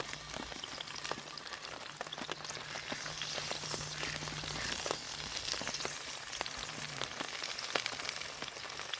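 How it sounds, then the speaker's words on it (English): Steady rain pattering outdoors around a heavy steak cooking over a fire, with a dense hiss and scattered close drips and pops throughout, no talking. "Cooking in the rain."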